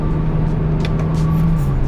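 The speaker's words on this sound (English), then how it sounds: "Check how fast the downshifts are, watch this." Tuned BMW 335i engine running with a steady low drone and faint tonal whine, rev changes from quick downshifts barely distinct within the continuous loud cabin hum.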